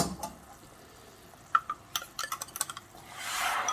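A caramel mixture is stirred and passed through a sieve, giving faint clicks and scrapes of a utensil on metal and glass, followed by a soft rising hiss.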